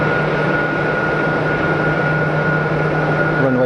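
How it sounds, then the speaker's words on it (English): An easyJet Airbus A320neo lined up for departure at Geneva Airport, its engines giving a steady, loud, continuous roar with a faint tonal whine over the drone. "EasyJet 320 Neo is all lined up, ready for departure"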